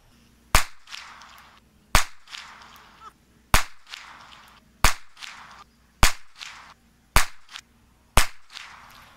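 Seven loud, sharp revolver shots from a Taurus 617 fired single action with hot handloads, spaced roughly one to one and a half seconds apart, each crack followed by a brief outdoor echo.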